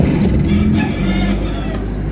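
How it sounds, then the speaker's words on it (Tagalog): Low, steady idle of a Mitsubishi Lancer GLXi engine just after starting, a close rumbling drone with a faint hum layered on top and a few light clicks. "one click lang siya, walang bulwak, walang check engine, maganda yung idle"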